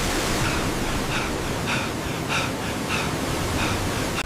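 Roaring waterfall effect: a loud continuous wash of broadband rushing water, dense and unbroken like heavy falling spray, with faint periodic swells, no voices.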